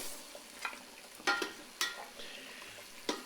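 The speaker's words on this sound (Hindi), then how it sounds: "इनको भी थोड़ा सा हल्का सा फ्राई करेंगे" Beef trotters (paya) lightly fry in masala, a quiet sizzle broken by a few sharp stirring clinks and scrapes.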